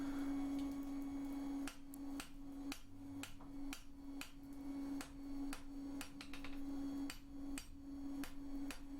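Hammer blows ring out on an anvil as an old hinge pin is drawn thinner, about twenty sharp metallic strikes in an irregular rhythm over a steady background hum, close and fairly loud.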